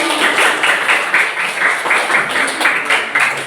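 Classmates clap for a student group that has just presented its discussion results in a morning class, a dense, steady patter of many hands that runs the whole time at close range.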